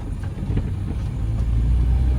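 A Maruti Swift car drives in second gear after a gear change, with a steady low engine rumble and road noise heard from inside the cabin, building slightly and continuing without talk.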